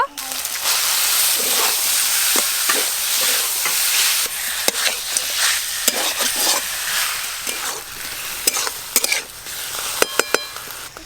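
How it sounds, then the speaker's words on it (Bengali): Chicken pieces frying with ginger, garlic and onion, a loud continuous sizzle under repeated scraping stirs of a spatula against the pan, with a few metallic clinks toward the end, close up and without speech. "আদা রসুন পেঁয়াজ আর চিকেন একসঙ্গে ভালো করে একটু ভাজা ভাজা করে নিয়েছি"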